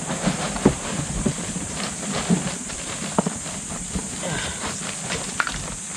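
Hungry goats are fed silage, with busy rustling, scattered hoof knocks and clatter from the animals close by under a constant hiss.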